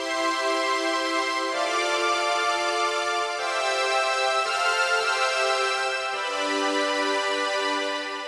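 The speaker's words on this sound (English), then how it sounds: "I chose a different string sound on the Oberheim expander," A synthetic string section patch on an Oberheim Expander synthesizer plays sustained chords, changing roughly every three seconds, loud and steady with no talking.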